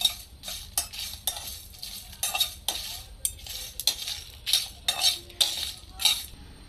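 Dry red chillies and whole coriander seeds are dry-roasted in a pan, stirred with a utensil that scrapes and clinks against the metal in repeated short bursts, with a faint low hum under the strokes.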